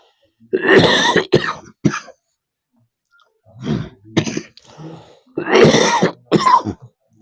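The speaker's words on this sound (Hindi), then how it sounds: "खांसी आ रहे हैं दर्शकों।" Several harsh coughs and throat clearings in three separate bursts with short silences between, loud and close.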